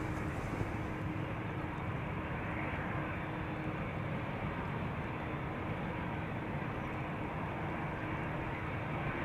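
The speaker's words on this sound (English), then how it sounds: "Next up, KLM flight 605 going to San Francisco. Another 787-10 Dreamliner." A KLM Boeing 787-10 Dreamliner airliner at Schiphol Airport gives off a steady, broad engine roar that holds at an even level throughout, with no talk over it.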